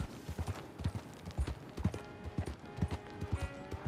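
Horse hooves clip-clopping at a steady gallop in the video game Red Dead Redemption 2, rhythmic thuds up close with a faint whinny and no talk over them.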